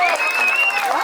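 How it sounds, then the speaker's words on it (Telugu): Audience applause mixed with shouting voices and high cheers follows a dance performance by Minnu Dance Academy at a Republic Day event in Rajiv Park, Kadapa; steady and fairly loud throughout the short stretch. "సో అందరూ గట్టిగా క్లాప్స్ అండి."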